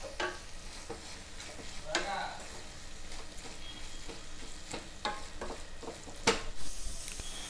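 A spoon stirs chili powder into telagarrela leaf curry frying in a pan, giving soft scraping strokes over a steady low sizzle, close and fairly quiet.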